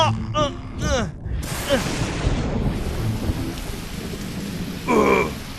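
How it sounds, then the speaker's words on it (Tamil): Steady cartoon rain hisses throughout as a broad, even wash, with a few voices speaking briefly over it near the start and end. "மழை பெய்யுது சொல்லாம கொள்ளாம இந்த மழை எங்க இருந்துப்பா வந்துச்சு"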